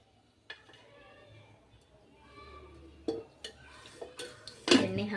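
A kadai is set down on the stove at home, with a few sharp metallic clanks and clinks close by, the last one loudest, amid quiet shuffling and low household sounds.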